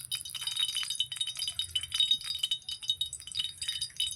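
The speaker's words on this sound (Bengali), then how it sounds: "তেল আমার গরম হয়ে গেছে, দিয়ে দেবো ফোড়ন।" Five-spice and a dried chilli tempered in hot oil for a pumpkin-greens dish, a busy crackling sizzle with rapid spitting pops that continues throughout at moderate level.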